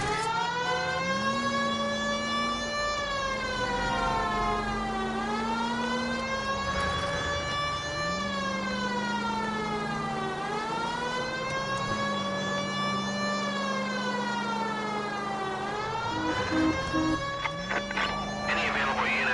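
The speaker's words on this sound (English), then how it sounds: "Put on the siren." A police car siren wails in a horror video game, rising and falling in long repeated sweeps that stay loud and close throughout, with a low engine drone beneath.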